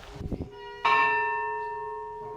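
A single church bell strike in an old Greek Catholic monastery near Lviv rings out clearly after a brief low knock, its bright metallic tone sustaining and slowly decaying.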